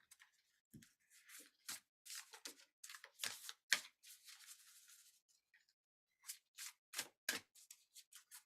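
Soft, quick riffling and papery flicks come in bursts with short pauses, close and quiet, as tarot cards are shuffled by hand.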